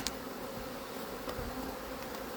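Angry honeybees buzz around an opened hive during a hive split, forming a steady, dense drone with a few louder passes of individual bees close by.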